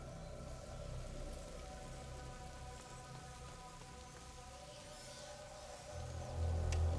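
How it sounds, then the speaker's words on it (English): Steady rain falling in A Plague Tale: Innocence, a dense even patter of drops hitting surfaces with a low rumble underneath that swells near the end, no voices. "Lucas, Hugo, stay out of the rain"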